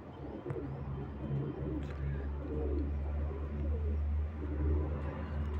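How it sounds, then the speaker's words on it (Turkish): Pigeons cooing in a loft, with low repeated coos overlapping close by and a few faint chirps and wing rustles. "Harika kuşlar arkadaşlar."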